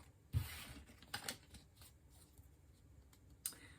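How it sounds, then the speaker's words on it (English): A tarot deck being shuffled, soft brief riffles and card flicks in a few quiet bursts against a hushed room. "One more shuffle."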